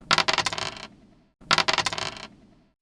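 Dice rolled for a tabletop roleplaying game, two separate bursts of rapid clattering and rattling on a hard surface, each settling after under a second, close and clear with no voices.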